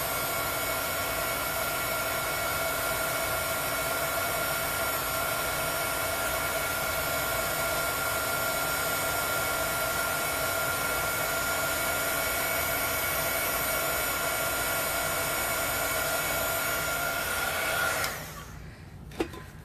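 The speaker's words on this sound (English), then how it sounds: "I have a heat gun that blows hot air and it melts the embossing powder into that glue" Steady roaring whoosh of a heat gun blowing hot air to melt embossing powder into glue, running loud and unbroken for most of the clip before it cuts off abruptly near the end.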